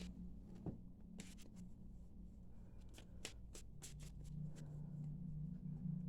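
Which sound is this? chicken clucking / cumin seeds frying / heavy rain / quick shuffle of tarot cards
quick shuffle of tarot cards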